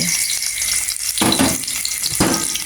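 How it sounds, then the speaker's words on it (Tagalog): Garlic and onion sauté in a hot pan for a Filipino adobo of daludal (taro stalks), with a steady crackling sizzle and two sharper bursts of stirring noise, close and fairly loud. "nilagay ko na yung bawang at saka yung sibuyas"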